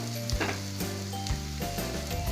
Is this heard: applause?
no